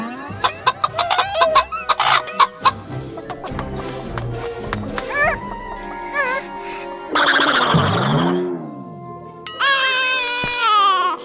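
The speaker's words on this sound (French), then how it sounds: "C'est juste une gentille poule." A hen clucks and squawks in bursts amid busy cartoon-like sounds, with loud shrill squawks near the end.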